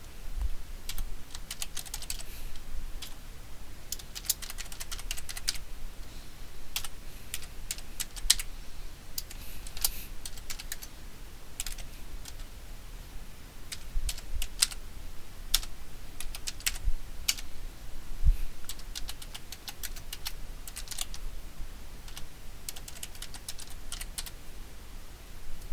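Steady clicking of keys on a computer keyboard as a file path is typed at a terminal, an irregular run of soft close taps that lasts throughout with no talking.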